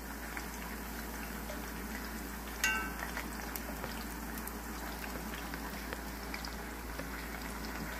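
Homemade tortilla frying in oil in a pan, a steady soft sizzle and crackle throughout, with one brief louder clink partway through.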